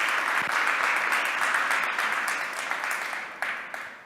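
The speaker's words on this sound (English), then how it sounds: "if y'all could all give yourself a round of applause for doing the self-introductions" A morning summit audience claps, a dense even wash of applause that holds steady for several seconds and thins slightly toward the end, with a few sharper individual claps standing out.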